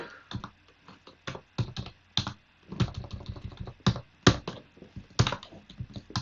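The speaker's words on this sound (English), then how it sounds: "I'm using the keyboard now to go a bit faster" Computer keyboard typing, played at a brisk pace while a 2007 game is being upgraded: irregular bursts of sharp key clicks with short pauses, close and fairly quiet, no voices.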